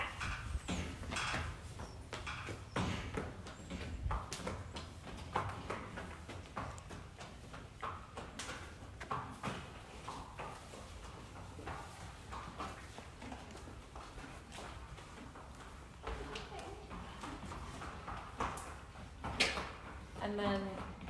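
An adoptable horse being led on a walk, hooves clip-clopping in a steady, fairly faint rhythm over a long stretch, with people talking nearby.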